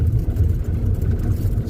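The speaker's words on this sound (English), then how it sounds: "this is what a stretch of road construction looks, feels, and sounds like" Vehicle driving through a road construction zone, a steady low engine and road rumble heard from inside, loud and continuous over a short stretch.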